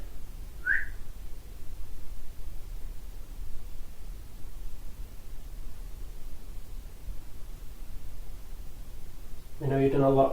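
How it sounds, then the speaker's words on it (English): A short whistled note near the start of a quiet, hissy room recording made during a ghost-hunting session, followed by a brief burst of voice-like sound at the end. "maybe you could whistle like this."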